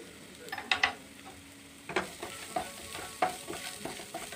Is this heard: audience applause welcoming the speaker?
no